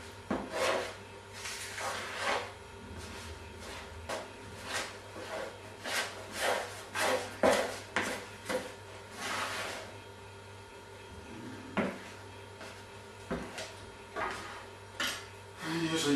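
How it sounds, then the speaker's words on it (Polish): A spoon stirs and scrapes yeast pizza dough around a bowl, giving repeated soft scraping and knocking strokes at an uneven pace, close and moderately quiet, with no voices. "zaczynamy zarabiać ciasto. Użyjemy łyżki, żeby nie chwilić rąk"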